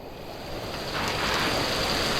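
A steady broadband rush of rainwater flowing into a Konkan rice paddy, close and continuous, swelling slightly louder as it goes on, with no voices.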